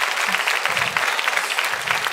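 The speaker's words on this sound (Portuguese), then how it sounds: "Aplaude forte então, Senhor." Congregation clapping in a church, a short burst of dense, energetic applause from many hands, steady and fairly loud with a faint murmur beneath.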